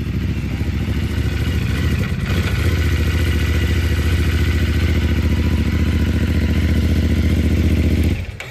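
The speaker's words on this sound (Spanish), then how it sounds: "se le escuchan las punterías, vean" A CFMoto 450MT motorcycle engine idles steadily and close, with a fast, even clatter of ticking valve tappets running through its rumble before cutting off near the end.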